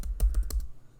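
Quick keystrokes on a Mac keyboard as a terminal command is typed, four or five crisp close taps in a fast burst, then quiet.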